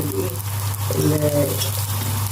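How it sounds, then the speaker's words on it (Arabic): Onions fry in oil over a gas stove burner, a steady sizzle with a low hum beneath, fairly close and unbroken for a couple of seconds. "بحمر البصل على عين تانيه في البوتاجاز"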